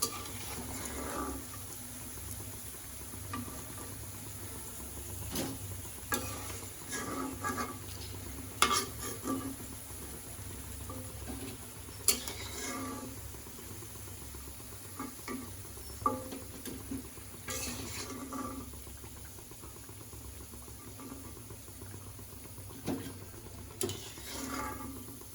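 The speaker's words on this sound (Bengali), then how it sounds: "এখন আমি বাকি বড়াগুলো ভেজে নিব।" Drumstick flower fritters frying in a pan, a faint steady sizzle with intermittent stirring clinks and scrapes in a quiet village kitchen.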